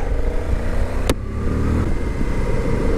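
A 2023 Suzuki V-Strom DE motorcycle rides along with its engine droning steadily up close, a continuous loud hum mixed with rushing wind and a brief sharp tick partway through.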